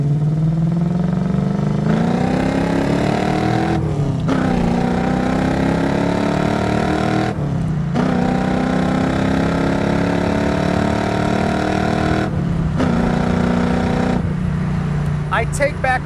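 A 1979 Pontiac Trans Am with its original 400 V8 and four-speed under way, the engine droning loudly and continuously with repeated rises in pitch through the gears and brief dips at each shift.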